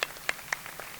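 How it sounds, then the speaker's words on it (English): A small audience at an awards ceremony claps for about a second, with a few distinct, fairly quiet hand claps standing out in a loose, sparse patter. "please give yourself a round of applause."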